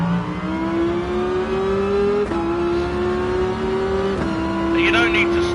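Rally car engine held at full throttle in a rally video game, a steady high droning whine with brief dips at gear shifts, loud and close, with someone talking over it.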